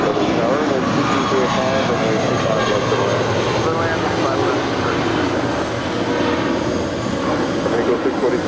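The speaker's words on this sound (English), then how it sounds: "It's a 777 lighting up. She will have a Southside departure coming up." A Boeing 777's jet engines spooling up for departure at LAX make a steady, loud, broadband roar with a tonal whine that holds throughout, while a voice talks over it.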